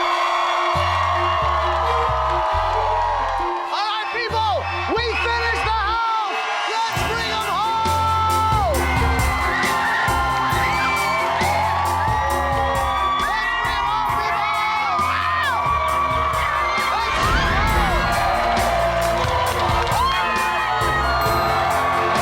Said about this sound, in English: There are just so many people screaming